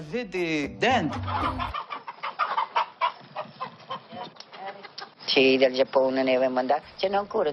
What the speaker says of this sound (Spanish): A mí me encantan los pollos.